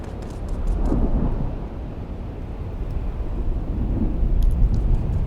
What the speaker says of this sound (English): A large sandstorm is approaching.